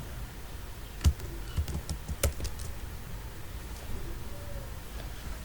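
Keys clatter on a computer keyboard as a word is typed into a search box, a quick irregular burst of close taps followed by a few sparse clicks over faint room noise.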